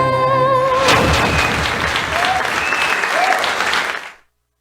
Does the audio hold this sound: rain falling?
no